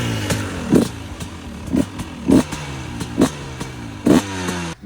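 A dirt bike fitted with an electric starter idles and revs at a motocross meet in Vendée, sharp throttle blips rising from a steady burble roughly every half second, close and loud.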